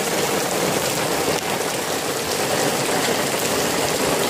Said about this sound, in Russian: вот такой вот прошел дождик у нас.